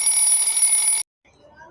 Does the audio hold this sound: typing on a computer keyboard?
no